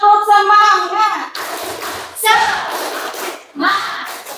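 Students in a geography class do a rhythmic spirit clap, short bursts of patterned hand claps alternating with children chanting in unison, near and fairly loud.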